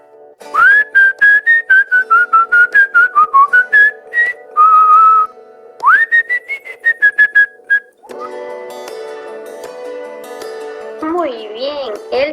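A person whistles a series of bright, rising and falling melodic phrases in short bursts, clear and close, followed by a jingly tinkling musical passage with a wavering tone near the end.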